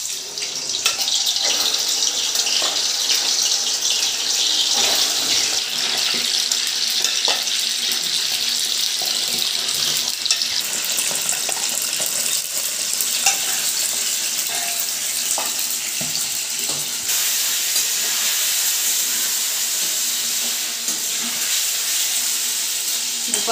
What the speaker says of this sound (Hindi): पनीर को अभी हम लोग भूनने देते हैं